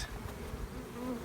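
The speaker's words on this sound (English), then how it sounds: "let's see if I can capture some of these little bees. Some of these bees walking around with these pollen sacs." Honey bees buzz in a steady, low hum around a farm homestead hive, a close continuous drone with no talking.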